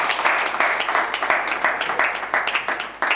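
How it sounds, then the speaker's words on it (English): An audience claps together in a steady burst of applause, many hands at once, moderately loud and sustained throughout. "let's clap for our first producers"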